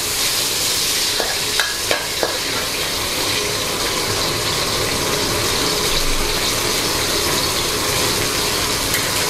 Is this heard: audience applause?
no